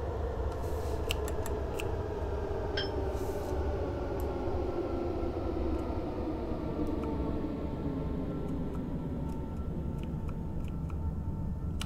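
A DDM double-decker train in the game Train Sim World 2021 rumbles along steadily, a continuous low roar with clattering texture and faint high ticks and squeaks over it.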